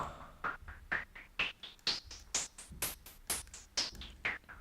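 A snare drum loop runs in Bitwig Studio with its filter cutoff swept, about ten evenly spaced hits whose brightness climbs higher and then falls back, fairly quiet and with no talk.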